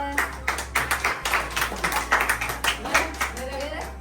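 A family claps together at a surprise celebration, brisk rhythmic hand claps repeating steadily and close, with a low hum underneath and voices mixed in.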